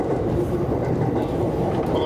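A JR 521 series four-car electric train runs along the rails with a steady low rolling hum and soft clickety-clack. The sound is heard from inside the train, with faint voices in the background.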